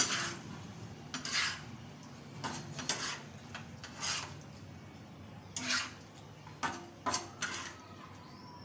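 Spiced goat liver (kalaji) with lemon being stirred and mixed in a tawa pan: a quiet series of scraping, rasping utensil strokes against metal, in irregular bursts close up.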